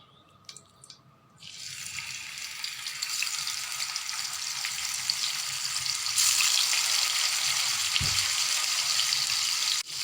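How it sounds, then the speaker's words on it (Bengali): Fish pieces dropped into hot oil, the same oil used earlier, burst into a loud, steady sizzle after a few quiet kitchen clinks and keep crackling evenly, growing slightly stronger partway through. "এখন আমি মাছগুলোকে একই তেলে ভেজে নেব।"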